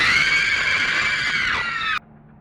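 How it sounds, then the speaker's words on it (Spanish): A harrowing scream sound effect: one loud, close, sustained shriek lasting about two seconds that wavers slightly in pitch and then cuts off abruptly into quiet. "su hijo oyó un grito desgarrador proveniente del dormitorio"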